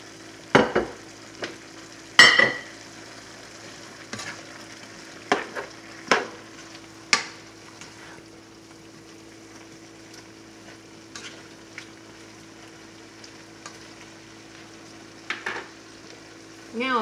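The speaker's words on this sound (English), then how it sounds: "we're going to go ahead and add in our lovely chicken that is already pre-cut, and we cut it into strips" Pesto pasta chicken strips cook in a pan under a faint, thin sizzle, broken by scattered sharp clicks and scrapes of a utensil against the pan.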